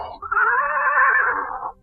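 A horse neighs as a radio drama sound effect, giving a single loud, close whinny that rises and wavers for over a second before cutting off. No distinct kicks stand out.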